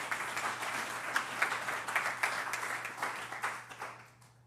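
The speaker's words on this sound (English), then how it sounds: "If we could have an encouraging round of applause." An audience at a social media business conference gives a moderate round of applause, close scattered clapping that swells and then fades out at the end.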